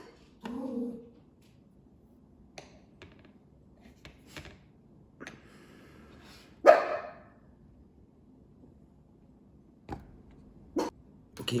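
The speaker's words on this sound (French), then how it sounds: "le chien s'est mis à gueuler" A dog barks indoors, one sharp loud bark standing out mid-clip among a few scattered fainter yips and clicks, otherwise a quiet room.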